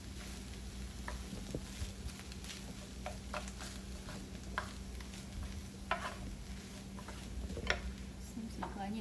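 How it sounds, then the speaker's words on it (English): Egg fried rice with vegetables stirred in a pot, giving a steady low sizzle with scattered soft scraping clicks of the utensil throughout, fairly faint and continuous. "Just stir them together and ready to serve."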